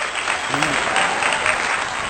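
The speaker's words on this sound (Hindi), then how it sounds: "जोरदार तालियां" Audience applause at a Ram temple celebration event, a dense steady burst of many hands clapping together, loud and close, lasting the whole moment.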